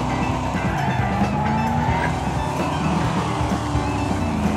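Stormshadow DH car in the Wreckfest racing game, its engine droning steadily throughout with tires squealing and skidding, a continuous loud mix of motor roar and scrubbing rubber with no talk.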